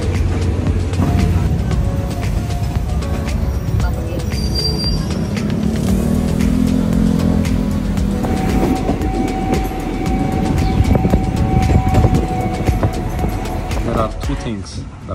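Steady rumble and rattle of a passenger train ride in Thailand toward the Ban Klong Luk border, with carriage clatter and faint squeals running continuously at close range, and voices at times.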